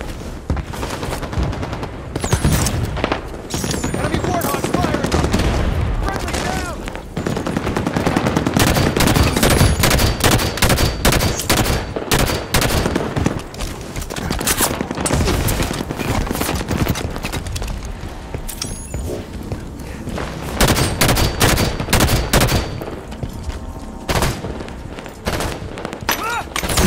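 Enemy Warthog vehicles in Halo 5 Warzone fire their guns in sustained, loud bursts of rapid gunfire with dense overlapping shots and booms throughout, mixed with game speech and battle noise.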